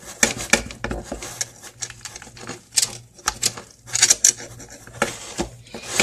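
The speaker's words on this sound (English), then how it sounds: "I'm going to just do a simple cut my quesadilla into 4 pieces" A homemade quesadilla is sliced into four pieces on a board: a run of short, crisp rasping cuts and knocks, close and fairly loud, with brief pauses between strokes and no talking.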